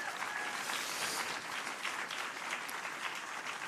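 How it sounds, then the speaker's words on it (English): A large audience at the 33rd annual Emerald Awards for Environmental Excellence applauds in a dense, even wash of clapping that stays level for the whole stretch. "So let's get a round of applause for them."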